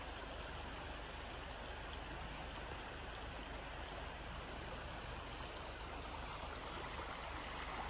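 A creek flows steadily nearby, a constant even rush and babble of water with no breaks.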